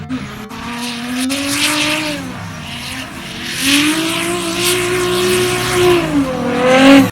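A race car lapping a track after repairs and adjustments, its engine rising and falling through gear changes with occasional tire squeal, loud and close throughout, ending in a strong revving surge, with no talking.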